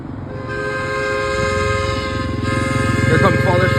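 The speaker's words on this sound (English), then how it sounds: "Train spotting at Redwood Valley Railway." A miniature train at Redwood Valley Railway passes close by during the holidays, sounding a long sustained whistle over a steady rumble, with clatter building toward the end and voices talking underneath.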